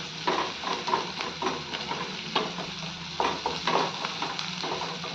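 Onion and mild green chilies sautéing in a pan for bhindi masala, giving a steady close sizzle and frying crackle with repeated stirring scrapes of a spoon through the mixture, no voices.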